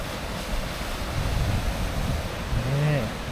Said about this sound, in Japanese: これ今でっかい波今来ましたよ。